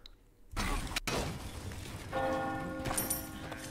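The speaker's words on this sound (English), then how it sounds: "The bell rings, ladies and gentlemen." A bell clangs to end a fight in a video game, a bright ringing strike that rings on over a busy game soundscape with crashing effects.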